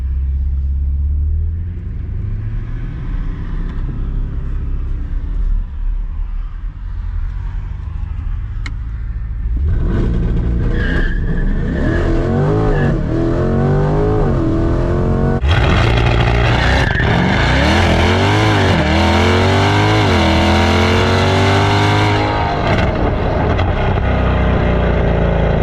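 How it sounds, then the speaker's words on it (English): A loud cat-less car exhaust idles, then revs hard in repeated rising bursts during a launch-control start and accelerates away with a deep, raspy roar. "we're gonna try to do a little bit of launch control just to see how it sounds"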